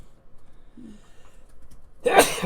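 A single sharp sneeze bursts out loudly near the end after near silence and a faint murmur, brief and close by.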